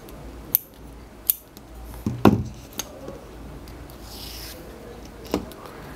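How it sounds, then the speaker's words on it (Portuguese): Scissors snip yarn while an amigurumi bunny is finished off, several short, crisp snips spread over a few seconds, with one louder cluster of cuts in the middle against a quiet background. "Corto aqui o fio, deixando um pedaço para fazer a costura."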